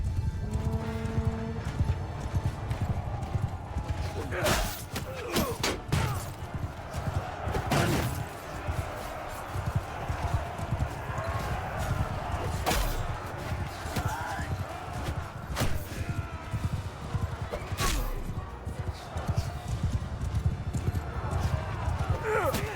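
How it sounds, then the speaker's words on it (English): Mounted cavalry charging across a battlefield in Bannerlord: continuous thundering hoofbeats, neighing horses and clashing impacts, loud and sustained, with some speech mixed in. "Drag my horse line through them."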